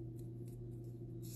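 Scissors fussy-cut letters from designer series paper, a few quiet, soft snips heard briefly over a low steady hum.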